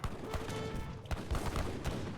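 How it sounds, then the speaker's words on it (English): Heavy cannon gunfire from an Age of Empires 3 battle, several dull booming shots and scattered battle noise at moderate level within a busy game soundscape. "He gets 1 shot off with the heavy cannon, but only 1, which is not good."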